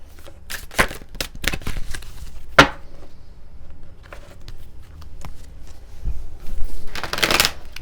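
Oracle cards being shuffled by hand, close and fairly loud, with repeated sharp riffling bursts and rustles at irregular intervals and a longer flutter near the end; no speech.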